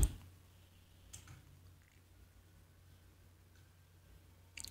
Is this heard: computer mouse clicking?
yes